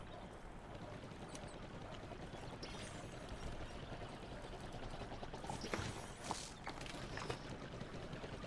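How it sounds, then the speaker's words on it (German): Water pours and splashes steadily from a watering can tended in the cozy farming game Palia, a continuous broad rushing wash with a few brighter splashy bursts near the end. "Kannst du mal gießen"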